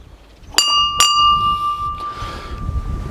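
An old-school outdoor gate bell on a homestead, struck twice in quick succession, each clear metallic ring sustaining with a long ringing tail and faint background noise.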